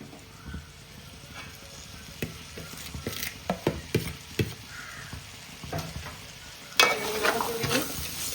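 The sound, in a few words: onions and shallots frying and stirred in oil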